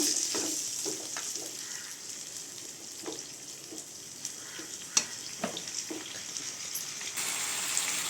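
Chicken pieces sizzling and frying in a pan for a pepper chicken dish, with a steady crackle and occasional scraping stir strokes from a spoon, close and continuous with no talking.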